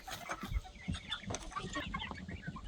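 Young chickens clucking softly in a coop, recently moved from the brooder, a dense run of short low clucks and chatter close by with no talk over them.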